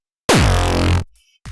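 A single loud, heavily distorted hardcore kick tail synth tone from the Bassmurda plugin sweeping down in pitch, held for under a second before cutting off, followed by a faint brief noise.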